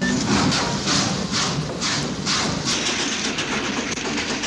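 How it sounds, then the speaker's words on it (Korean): Steam train starting off in a western film scene, a dense loud rumble and hiss with a rhythmic chuffing and clacking pulse, close and continuous. "그를 눈치챈 프랭크는 기차를 출발시키고"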